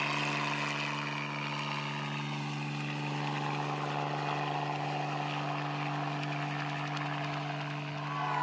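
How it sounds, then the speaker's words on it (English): Steady droning hum of a small propeller plane engine flying over a forest, constant and fairly close, with no voices. "They have even arranged for a small aeroplane in order to film and take photos from above."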